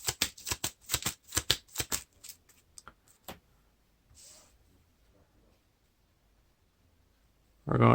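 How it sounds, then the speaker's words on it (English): Playing cards for a Lord of the Rings card game are riffle-shuffled into a deck, a quick series of crisp riffling bursts followed by scattered card snaps, then near silence and a sudden loud noise at the end. "Now we're going to shuffle another one into the encounter deck."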